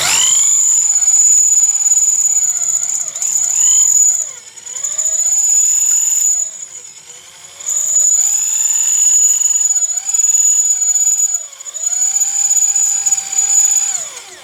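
Power drill boring a hole through a car or truck mask grille for extra LED high beam lights, a loud steady high-pitched whine that dips briefly several times as the load changes, close and continuous with no talking.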